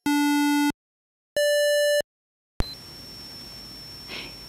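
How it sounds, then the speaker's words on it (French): Two synthesized sine-like tones from an early BASIC home computer program, each lasting under a second with a short gap, the second noticeably higher in pitch, followed by a burst of background hiss. "La seconde note est plus haute que la première."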